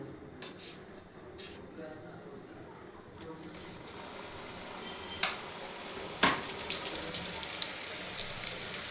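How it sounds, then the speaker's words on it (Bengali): Hot oil sizzles softly as pieces of nimki dough are dropped in, with a couple of sharp clacks and scrapes from the pan. "তেলটা গরম হয়ে গেছে, একে একে এখন আমি নিমকিগুলো সব ছাড়বো"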